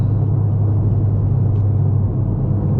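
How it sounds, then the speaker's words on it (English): Steady low exhaust rumble from a Hyundai Veloster N idling nearby, a deep continuous drone with no voices. "you can still hear the exhaust."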